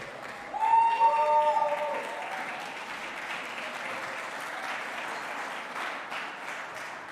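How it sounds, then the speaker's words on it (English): Spectators at the Qatar Classic 2023 squash tournament applaud at the end of a match. The clapping starts loud, then settles into a steady, moderate round that carries on throughout. "A nice little round of applause at the end of that performance."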